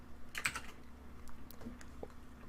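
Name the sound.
typing on a computer keyboard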